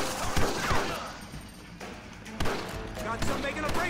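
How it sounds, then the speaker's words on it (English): Shots from outlaws in a gunfight in the video game Red Dead Redemption crack in scattered bursts among game sounds, with a player talking over the action. "Where are they shooting me from?"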